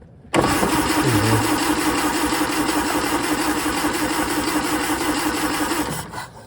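A 1939 Austin 12 engine cranks steadily for about six seconds without catching, a loud, even churning drone from the starter that starts abruptly and fades as it stops.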